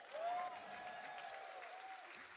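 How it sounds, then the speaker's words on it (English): A live charity speedrunning event audience claps and cheers, with a burst near the start that settles into steady moderate applause, and a faint voice beneath. "Could we get a cheer for that?"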